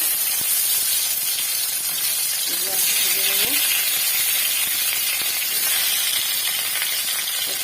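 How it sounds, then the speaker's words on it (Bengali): Pieces of spiny gourd sizzle and hiss loudly in hot mustard oil in a wok, a steady close frying roar with a few stirring scrapes, while a person talks over it. "আমি কড়াইয়ে সর্ষের তেল দিয়েছি সর্ষের তেলেই ভালো হয় আমি তেল হয়ে গেছে আমি ঘি করলাগুলো দিয়ে দিচ্ছি"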